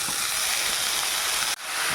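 Tomatoes go into a hot pan in a Kerala home kitchen and raise a loud, continuous sizzling hiss that breaks off briefly near the end, then resumes. No talking.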